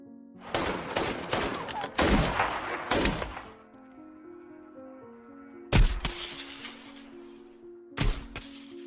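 Gunfire in a battle against a large force of Taliban fighters: loud, sharp bursts of shots crack in a cluster over the first three seconds, then two more heavy blasts follow after a lull filled with a steady tonal hum.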